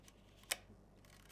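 A Leica M6 film camera fires its shutter once, a single sharp mechanical click near the mic in an otherwise quiet room, followed by a fainter small tick moments later.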